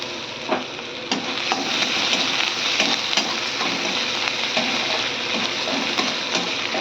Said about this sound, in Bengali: রসুনটাকে আমি ভাজা ভাজা করে নেব